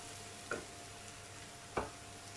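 Fried cauliflower sautés in a hot pan for a cauliflower chilli fry, a soft steady sizzle underneath two distinct scraping stirs about a second apart, close and fairly quiet with no voices.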